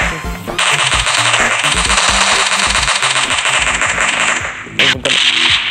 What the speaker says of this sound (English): Stop shooting, man.